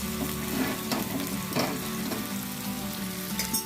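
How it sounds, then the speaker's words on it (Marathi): Prawns fry in hot oil in a pan, giving a steady, close sizzle with occasional stirring clatter, alone without voices. "जशा कोळंब्या या फ्राय होतात ना, फ्राय झाल्यानंतर या कोळंब्या गोलाकार होतात."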